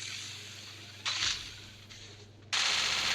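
Gunfire rings out in a shooting video game as two sharp bursts of shots, one brief and one sustained, over a quiet low hum.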